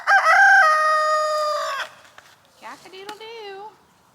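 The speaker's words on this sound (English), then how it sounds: "Cock-a-doodle-doo." A backyard rooster lets out one loud, close crow, followed by quieter clucks and softer calls from the flock.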